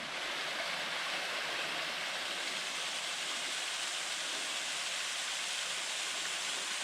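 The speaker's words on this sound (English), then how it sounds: "Just a little waterfall as we pass through the wood." A small waterfall on a beck in a wood along the Grosmont to Robin Hood's Bay stretch of the Coast to Coast Walk gives a steady, even rushing of falling water, moderately quiet and unbroken, with no voices.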